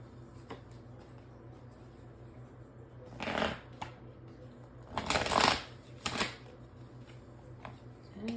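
Tarot cards are shuffled nearby in a few soft, riffling bursts over a faint background hum, with quiet pauses between them.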